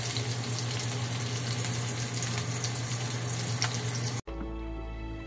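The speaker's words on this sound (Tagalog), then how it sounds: "gigisa na natin yung karne" Meat sautéing in a pan for a makeshift Filipino pinakbet sizzles steadily and loudly up close for about four seconds, then stops abruptly.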